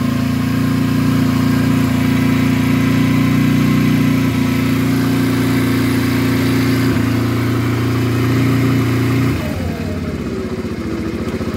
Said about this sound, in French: Est-ce qu'elle va tenir le ralenti comme ça?